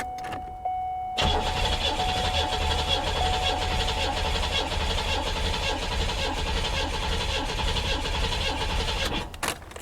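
A 2011 Chevy Camaro SS V8 engine cranking, a steady rough churning drone that carries on for several seconds after a short quiet start with a faint tone, heard up close.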